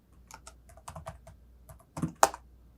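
Clicky typing on a computer keyboard, short irregular bursts of keystrokes close up with a couple of sharper key presses near the end, no voices.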